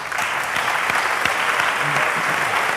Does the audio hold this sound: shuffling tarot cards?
no